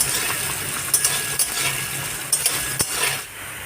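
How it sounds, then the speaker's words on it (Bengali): Potato pieces sizzle in hot oil in a kadai, with a steady fry hiss and repeated sharp clinks of a spatula scraping and stirring against the metal. "এবার একটু নাড়তে থাকবো ততক্ষণ আলুগুলো একটু লালচে ভাজা হয়।"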